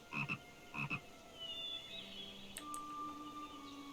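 Frogs croak in a swamp in Lord of the Rings Online, two clear bursts of croaking close by at the start, followed by softer bird-like chirps and a steady tone over a quiet ambient bed.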